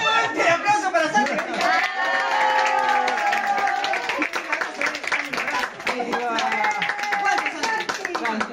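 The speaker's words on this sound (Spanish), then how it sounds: "¡Fuerte aplauso para Santi!" Audience clapping for Santi at a magician's show, a lively round of many hands with scattered cheers and chatter, while a performer speaks excitedly over it throughout.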